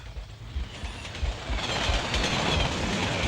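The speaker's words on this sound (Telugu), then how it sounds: "నీ గుండెల్లో రైళ్లు పరిగెత్తుతున్నాయన్నా." A train rumbles and clatters close by as a sound effect in a Telugu movie scene, a loud, continuous roar that swells and brightens toward the end, with no voices.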